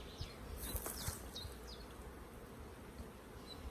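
Honey bees buzz around an open hive with frames of brood, a faint steady hum with a few individual bees whining past nearby; no voices.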